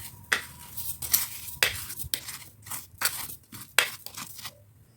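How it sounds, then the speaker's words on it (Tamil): A spoon stirs amla (Indian gooseberries) soaking in white sugar in a bowl, giving several sharp scraping and clinking strokes with short pauses between them, close and moderately loud with no talking. "ஒரு நாளைக்கு 2 தரம் மட்டும் கரண்டியால் கிளறி விடணும்."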